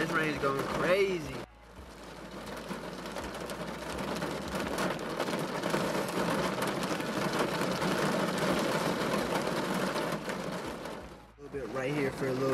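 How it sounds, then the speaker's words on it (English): Steady, dense hiss of heavy rain pouring down for several seconds, loud and close, with a voice briefly at the start and end. "this rain is going crazy"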